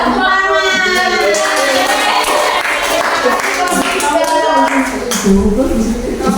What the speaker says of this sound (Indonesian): Kita kasih tepuk apa buat kelompok 3?